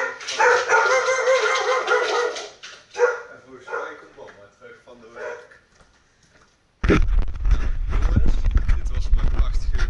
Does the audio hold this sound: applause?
no